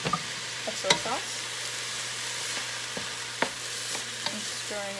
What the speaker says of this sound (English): I'm stirring it together.